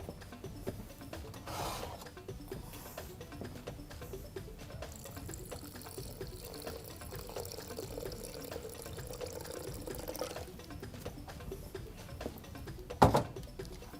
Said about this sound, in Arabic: ونزود شويه ميه